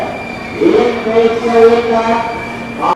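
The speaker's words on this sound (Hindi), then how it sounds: "हावड़ा नई दिल्ली राजधानी एक्सप्रेस 1 नंबर प्लेटफॉर्म पर खड़ी है।" Howrah New Delhi Rajdhani Express standing at platform 1 of Gaya Junction at night, a steady loud hum with tonal drones from the train and station, continuous for several seconds.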